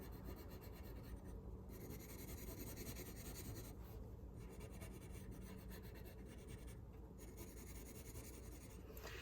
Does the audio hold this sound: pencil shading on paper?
yes